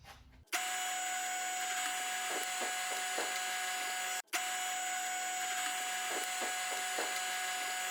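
A drill press cuts a 15/16-inch hole through a wooden guitar headstock held in an angle jig, producing a steady, close motor hum and grinding cut. The run pauses briefly partway through and then resumes.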